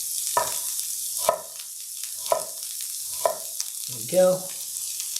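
Fresh onion and garlic, seasoned with salt and pepper, sizzle in hot oil in a series of about five sharp, evenly spaced hissing bursts, each fading quickly, with a short spoken remark near the end.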